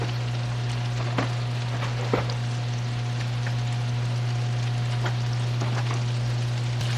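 Barramundi sea bass fries in butter in a pan over medium heat, giving a steady close sizzle and crackle with scattered sharper pops and no talking.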